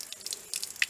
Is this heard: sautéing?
no